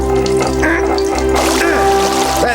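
Boiling water gushes loudly and continuously out of a hole in the ground in an underground cavern, a dense rushing and splashing that runs unbroken for the whole stretch with a low droning hum beneath it.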